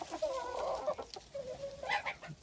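Ornamental roosters, a flock of about two dozen, cluck and call in short, drawn-out bursts nearby, with no talk over them.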